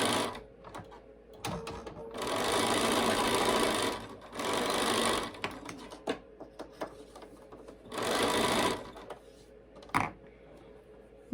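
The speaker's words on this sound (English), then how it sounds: "I'm going to pin them and stitch them." A sewing machine stitches pinned quilt triangles in several close bursts of rapid whirring, separated by short pauses with small handling clicks, and no talk.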